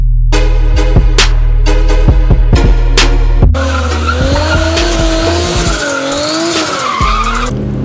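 A drift car slides at an end-of-season drift event, its tires squealing in loud sustained screeches over a roaring, revving engine, with sharp bursts early on and then a long wavering squeal.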